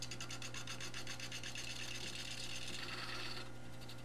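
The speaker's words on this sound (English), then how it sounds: "Here I'm starting just to rough out the outside using a 3/8 inch bowl gouge." A 3/8 inch bowl gouge roughing the outside of a 10-inch ash blank spinning on a wood lathe, producing a fast rhythmic scraping chatter over a steady motor hum, fading near the end.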